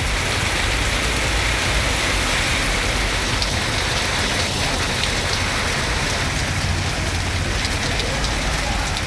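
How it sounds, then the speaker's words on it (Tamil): Heavy rain pours down steadily across the Sivaganga district countryside in Tamil Nadu, a dense, constant hiss and patter on surfaces that stays loud and unbroken from start to finish. "சிவகங்கை மாவட்டம் மற்றும் அதன் சுற்றுவட்டார பகுதிகளான வாணியங்குடி, காஞ்சிரங்கால், பையூர், முத்துப்பட்டி உள்ளிட்ட இடங்களில் கனமழை பெய்தது"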